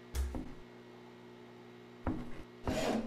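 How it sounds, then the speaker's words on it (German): A saw rasps through wood inside a horror video game, in two short, loud bursts over a steady low electrical hum. "Warte, die Säge nutzen wir hier."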